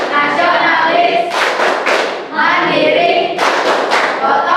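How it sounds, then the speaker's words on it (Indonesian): Schoolchildren in an Indonesian classroom chant and clap the PPK rhythm together, loud group voices punctuated by bursts of sharp claps. "kita tepuk PPK dulu"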